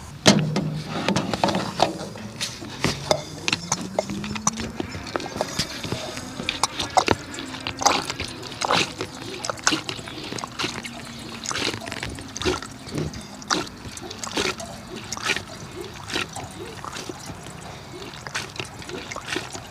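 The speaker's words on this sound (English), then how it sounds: "you let the handle go, it seems to pump out." Diesel is pumped by hand from a 53 litre caddy to fill a mini digger. Liquid trickles and gurgles alongside repeated clanks and squeaks from the pump handle, and it runs steadily at close range.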